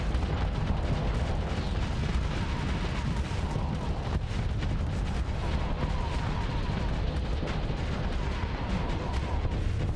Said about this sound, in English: Missiles.